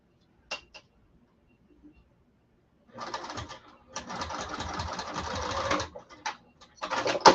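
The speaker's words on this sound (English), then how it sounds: "I'm just going to stitch it down." A sewing machine stitches down a fabric strap in several quick bursts of rapid, close mechanical whirring, separated by short pauses and faint clicks.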